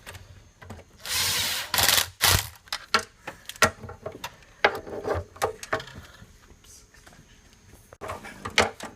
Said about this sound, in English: Now tighten all the clamps up.